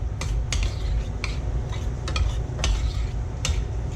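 Black beans being mixed with cilantro in a bowl for a tomato salsa, with a spoon scraping and clinking against the bowl in several close, irregular strokes over a steady low background.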